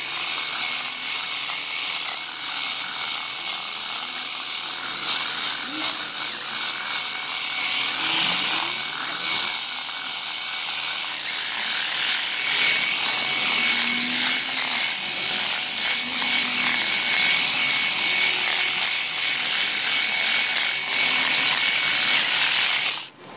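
A 6-inch Black & Decker power tool trims wood in a steady, loud, continuous whine-and-rasp that holds for the whole stretch, growing a little stronger partway through, with no talking over it.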